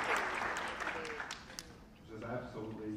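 A college honor society induction ceremony crowd gives a round of applause. The clapping is loudest at the start, then thins and fades as a voice begins speaking over it.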